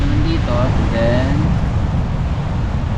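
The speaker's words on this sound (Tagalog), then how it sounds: "sobrang lakas ng hangin, dahil nga beach front tayo" Strong wind buffets a beach-front campsite in Casiguran, Aurora Province, roaring continuously across the microphone while someone talks briefly over it at the start.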